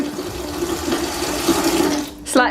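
Water running from newly installed bathroom plumbing during a Victorian house renovation, a steady close hiss of flow with a tonal hum, ending in a brief gurgle; a voice speaks over it.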